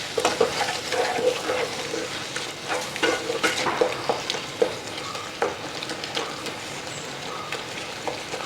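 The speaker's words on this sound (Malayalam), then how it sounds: "ഈ പഞ്ചസാരയുടെ ചേർത്ത് നമ്മളിതിനെ വരട്ടിയെടുക്കണം." Apricots stirred with sugar in a pan on the stove for apricot pudding, a steady scraping stir over a soft sizzle with occasional spoon taps, close and moderately loud, no voices.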